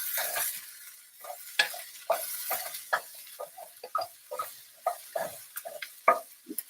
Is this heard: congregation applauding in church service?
no